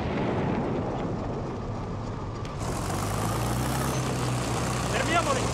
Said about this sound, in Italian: Ho individuato un aereo nemico.